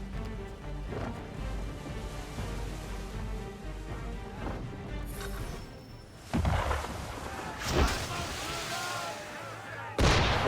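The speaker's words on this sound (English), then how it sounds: "Why is he shooting at us?" Ship cannon fire during a harbor scene in Assassin's Creed 3, with several loud booming blasts around the middle and end over a rumbling, busy game soundscape of music and ambience.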